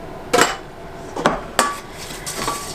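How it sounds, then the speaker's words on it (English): Melted butter being mixed into crushed Ritz crackers for a casserole topping, heard as a few sharp clinks and scrapes of a utensil against a dish, spaced irregularly, close and fairly loud with no talking. "Give it a quick little stir."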